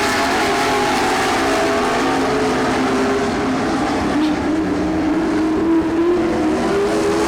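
Race cars roar around the track in a close battle, engines whining and droning together at high revs, loud and continuous with pitch sweeping gently as the cars pass.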